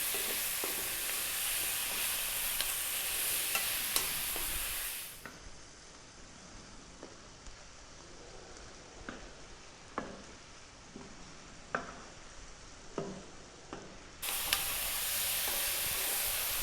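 Pork and mushrooms stir-fry over high heat in a takeout-style Chinese dish. A loud, steady sizzling hiss fades to a quieter stretch with scattered utensil scrapes and clicks, then the strong sizzle surges back near the end.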